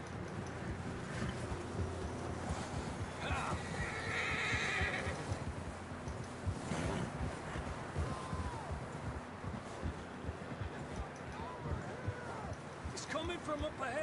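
Horses whinny and clip-clop at close range in Red Dead Redemption 2, with a loud neigh near the middle and hoofbeats running under steady game noise and wind.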